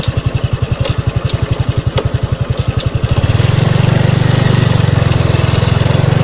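A motorcycle engine at a cemetery putters at idle with a regular, loud pulsing beat, then after about three seconds rises into a smoother, steadier drone, close by.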